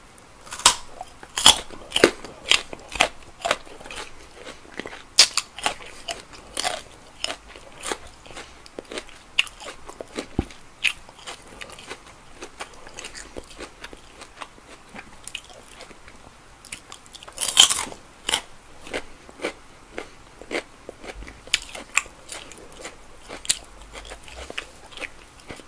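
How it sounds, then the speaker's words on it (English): Crunchy carrot sticks being bitten and chewed up close, a series of sharp crisp cracks and crunches in irregular rhythm with quieter chewing between bites, no talking. "carrot stick. They're really crispy and good."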